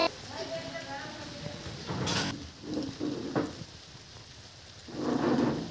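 Rain falling with rumbling thunder, a steady patter broken by several low, swelling rolls and a sharper crack, heard outdoors.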